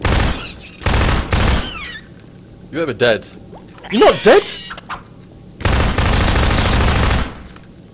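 Bursts of automatic gunfire from Half-Life 2 combat as enemies are shot down, several loud broadband volleys at the start and one long sustained burst near the end, with someone talking excitedly in between.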